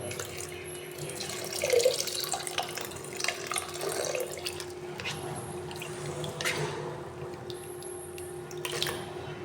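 Calotropis leaf solution trickles and splashes as it is poured through a filter, a continuous close stream of running liquid with scattered drips and small splashes.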